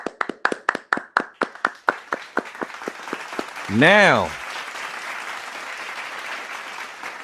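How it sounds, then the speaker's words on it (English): A round of applause for a basketball player on a sports talk podcast: a string of about a dozen sharp, evenly spaced claps, then a voice whoops in a rising and falling tone and the hosts start talking again. "So we're gonna give you a round of applause."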